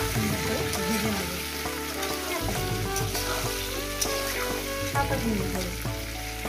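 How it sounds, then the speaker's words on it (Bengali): Potato and papaya pieces fry in a pan for a fish curry, giving a steady close sizzle with stirring scrapes throughout, backed by soft background music. "মিনিমাম 7-8 মিনিট ধরে আমি আলু আর পেঁপেটাকে সুন্দর করে ভেজে নেব"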